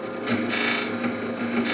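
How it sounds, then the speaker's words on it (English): A box scraper shears wood on a spinning lathe in steady, close raspy scraping with faint squealing tones and slight pulsing. "So let's do that with the box scraper."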